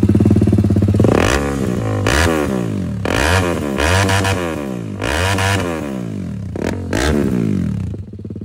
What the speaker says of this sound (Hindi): इसमें लगा लियोविंस का एग्जॉस्ट जो कि फुल सिस्टम नहीं है बट इसका साउंड आपको सुनाते हैं काफी ज्यादा लाउड है